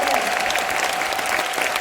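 Dense, steady applause from a seminar audience after a leader's closing speech, many hands clapping together in a continuous roar that stays loud and even throughout, with no voices standing out.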